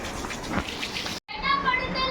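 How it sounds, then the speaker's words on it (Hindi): Water splashing and spraying across a rooftop during washing of the whole roof, a steady broadband wash of droplets that cuts out briefly and resumes with brighter splashes, with children's voices faintly mixed in. "वहाँ का पानी भाभी मार रही हैं।"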